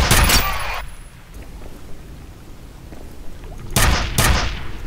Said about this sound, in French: Vive les lance-clous!